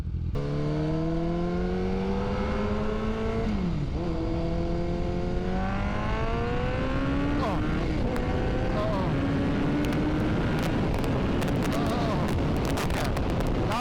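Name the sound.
modified Honda CBR motorcycle engine at full throttle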